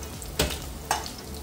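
Chopped onions frying in ghee in a kadhai, a steady close sizzle with two brief louder bursts of crackle as the pieces are stirred, no voices.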